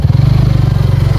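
A motorcycle rides along a village road on the way to Sada Pathor, its engine note a steady, loud low pulsing throb that holds close throughout.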